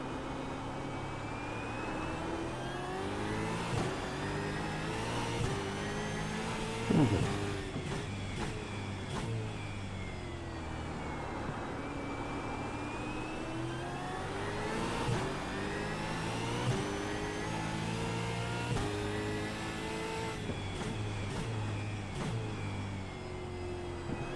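V8 Supercar engines race around the Winton circuit in a racing video game, several cars revving hard and shifting gears in a loud, continuous roar with rising and falling pitch sweeps and no talking.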